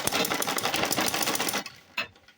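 A sewing machine top-stitches a handbag belt in a fast, close, rattling run that stops abruptly after about a second and a half, followed by a couple of faint clicks.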